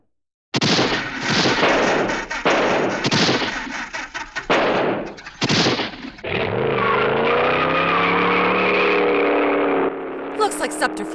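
A sniper gunshot rings out amid sharp bursts of gunfire with a voice speaking, then a car speeds off with a loud rising engine whine that holds steady before cutting out.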